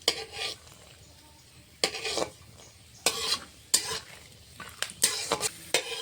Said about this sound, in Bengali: এখন আমি বাদামটা ভেজে নেব